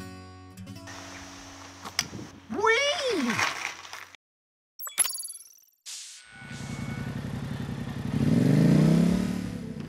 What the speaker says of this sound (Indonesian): Suara motor yang terlalu keras memicu masalah di sejumlah negara, termasuk di Prancis.